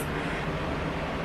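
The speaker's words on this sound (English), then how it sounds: "I'm sorry if you guys hear a fan in the background." An electric fan runs steadily in a hotel room, giving a constant, even whoosh of broadband air noise throughout with no other sounds.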